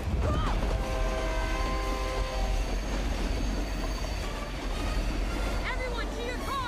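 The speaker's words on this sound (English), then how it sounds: "How are we supposed to catch a speeding train?" A speeding train in the video game Fast and Furious Crossroads rumbles loudly throughout, with a continuous heavy roll, squealing wheel tones and metallic clatter, while voices speak over it.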